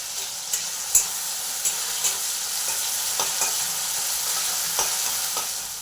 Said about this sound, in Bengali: পেঁয়াজগুলো একটু লাল লাল করে ভাজা হবে